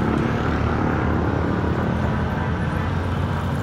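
A repaired dirt bike engine running steadily, a dense, continuous loud drone with no breaks and no voices.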